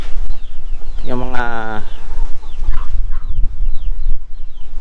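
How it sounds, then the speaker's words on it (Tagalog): Farm chickens cluck and squawk nearby, with one loud, drawn-out rooster-like call and several shorter clucks, under brief speech and outdoor background noise. "ang daming nakakalat ng mga manok dito pa"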